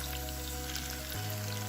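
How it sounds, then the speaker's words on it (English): Oil frying in a pot during ogbono preparation for okro soup gives a dense, continuous sizzle, loud and close with no pauses, and nobody speaks over it. "I'm just going to fry that out a little bit."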